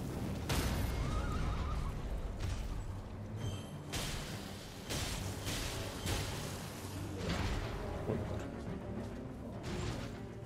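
A horse in Elden Ring neighs and whinnies amid loud game combat, with heavy thuds, whooshes and clattering hooves filling the scene throughout.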